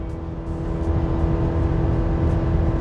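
A modern half-ton pickup truck's engine drones loudly and steadily under strain, a deep continuous roar with a faint whine over it.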